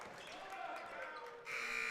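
A loud electronic buzzer blares to end the first quarter of a high school boys' basketball game, Nottingham Northstars at Hamilton West Hornets, cutting in sharply over crowd noise and an announcer's commentary.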